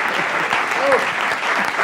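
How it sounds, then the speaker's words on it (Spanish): A studio audience at a Spanish comedy show applauds for Alejandro, a brief burst of loud clapping close by, with a voice talking over it. "aplauso para Alejandro"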